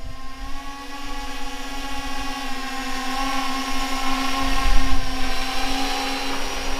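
Small drone flying over a frozen lake, a steady high rotor whine with layered tonal hum running throughout, fairly close and constant, swelling slightly midway, with no talk.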